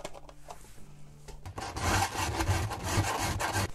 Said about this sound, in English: let's file some chains